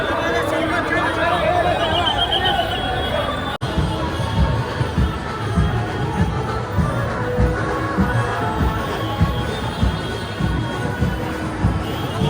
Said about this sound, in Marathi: मित्रांनो गर्दी खूप आहे, भरपूर इथं पाहू शकता तुम्ही. गर्दी भरपूर.